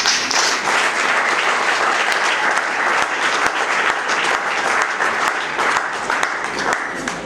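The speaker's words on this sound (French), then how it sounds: "Ces applaudissements, monsieur le ministre, ce sont les applaudissements d'une salle conquise." Sustained applause from a packed hall greeting a government minister at a World Press Freedom Day closing ceremony in the DRC, a dense steady roar of many hands, loud and continuous, easing slightly near the end.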